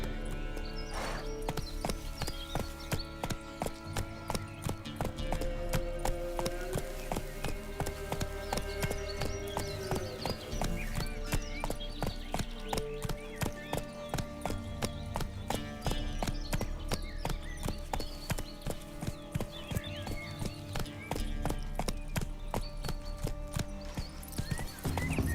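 Horse hooves trot in The Witcher 3: Wild Hunt, an even, continuous clip-clop that repeats close by for the whole stretch, with an occasional whinny and low game ambience beneath.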